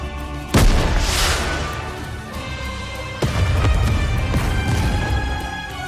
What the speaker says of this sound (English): a shell flies from the rocket launcher. And a resounding explosion causes the entire snowfield to be blanketed in thick plumes of white smoke